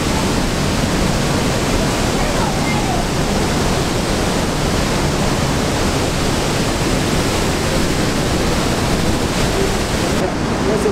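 El Pailón del Diablo waterfall in Ecuador thunders nearby as a loud, steady, unbroken roar of falling water, with no pauses or changes over the whole stretch.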